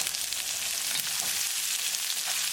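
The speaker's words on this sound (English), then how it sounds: "keep cooking onion until they are nicely translucent" Onions cooking with garlic in a hot karahi, giving a dense, continuous hiss of frying oil that holds steady and close throughout, with no voices.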